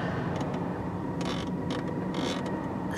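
An air conditioner creaks and squeaks, with brief high chirping bursts over a steady, close mechanical whir that runs through the whole stretch.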